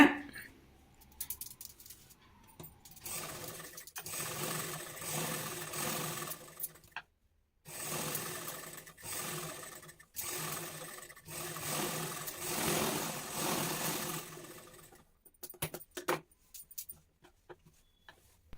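A sewing machine runs close by in several steady bursts with short pauses, topstitching a folded seam on saree blouse fabric to make a small pavadai skirt for a deity.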